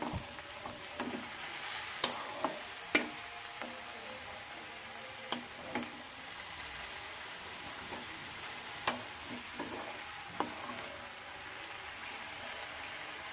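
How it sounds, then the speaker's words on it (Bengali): Cabbage frying in a pan for a vegetarian dish, a soft steady sizzle broken by scattered sharp clicks and scrapes of a spoon stirring against the pan, quiet and close. "দিয়ে এবার একটু নাড়াচাড়া করে নেব।"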